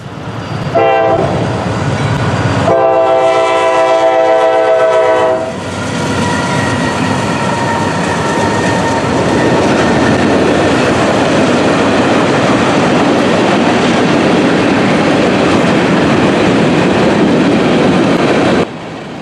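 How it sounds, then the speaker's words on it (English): A train horn blares in long, loud blasts at the start, then a northbound Norfolk Southern freight train rumbles and clatters steadily past at close range at the Cook Road railroad crossing. "we see a northbound NS freight train rolling by"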